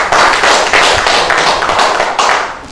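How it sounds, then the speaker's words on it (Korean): An audience applauds at a Democratic Peace Party supreme council meeting, a dense, steady wash of many hands clapping for nearly three seconds with slight swells, no voices over it. "박수로 한번 쳐주세요"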